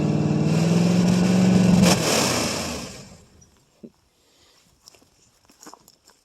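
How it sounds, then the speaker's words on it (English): A 1968 Ford LTD two-door hardtop's 390 FE V8, cold-started after about three years, revs up loudly and close for a couple of seconds, then winds down and cuts off, leaving quiet thumps and faint rustling. "Rev it up."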